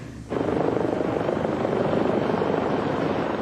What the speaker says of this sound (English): I even got in the helicopter with them.